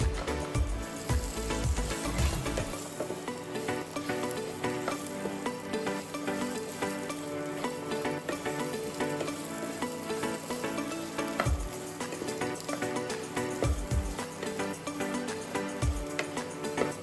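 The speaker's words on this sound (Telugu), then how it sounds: "జీలకర్ర కూడా మంచిగా వేగేలాగా వీటిని బాగా వేయించుదాము." Cumin seeds and coconut pieces fry in oil in a pan, giving a steady, close crackling sizzle throughout, with a few low knocks of the pan or spoon near the start and later on.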